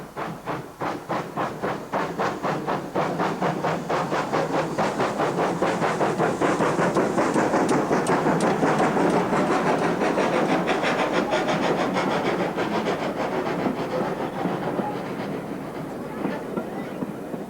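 A Great Western pannier tank steam locomotive working along an open stretch of the Gwili Railway, with rhythmic exhaust beats and clattering wheels rising to a loud pass and then fading slightly.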